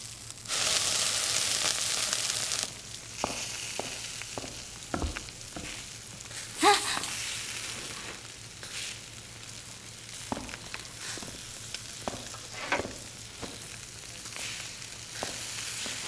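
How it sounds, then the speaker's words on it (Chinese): Steak fries in a pan with a loud, bright sizzle at first that settles into a softer crackle, broken by scattered clinks and taps of utensils against the pan, with no talking. "我在煎牛排"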